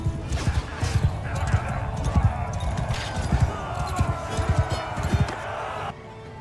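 Horse hooves clopping in a Mount & Blade 2: Bannerlord battle scene, a quick irregular stream of thuds close by over a busy game soundscape, fading out near the end.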